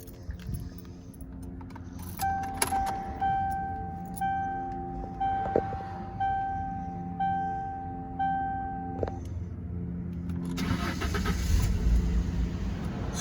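A 1996 Mercury Cougar XR-7 with a repeating warning chime sounds first, then the engine cranks and catches near the end, settling into a steady rumble at close range.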